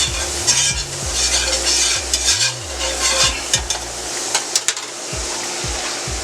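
Garlic sizzling in a pan while being stirred, bright steady frying hiss with repeated scraping and clinking of a utensil against the pan and low rumbling knocks, no talking.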